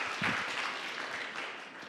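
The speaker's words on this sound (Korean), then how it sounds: "여러분 다시 한번 박수 부탁드릴게요" Conference audience gives a short burst of steady applause, a dense wash of clapping that holds for a couple of seconds.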